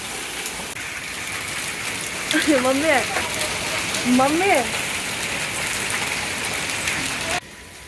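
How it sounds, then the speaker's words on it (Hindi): Steady hiss of heavy rain mixed with hail falls throughout, with someone speaking briefly over it partway through before the sound cuts lower at the end. "तो ये देखो बारिश"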